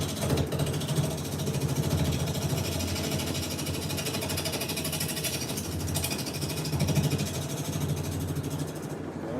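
Wood lathe turning a live edge bowl, cleaning up the outer edge: a steady, continuous mechanical hum and whir with a rumbling low drone, held at an even loudness throughout, close and without talk.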